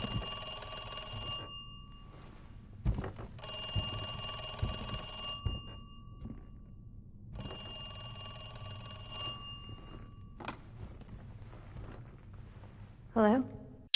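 A telephone rings in three long, evenly spaced bursts of bright, trilling bell tone, with voices talking in between and over the rings.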